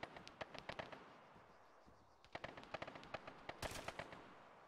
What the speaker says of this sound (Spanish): Sí, le está disparando a este.